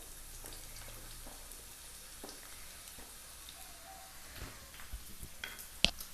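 Two chopped onions frying in hot oil for a chicken liver pepper fry give a quiet, close sizzle with light stirring scrapes and a few louder clicks toward the end. There is no talking.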